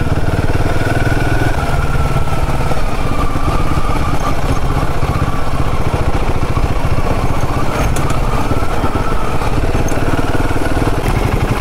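A motorbike engine drones steadily throughout as it rides an extreme off-road track near Kundapura, with a constant rough mid-pitched rumble and clattering, loud and close, without pauses.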